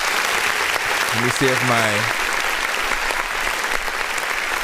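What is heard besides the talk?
applause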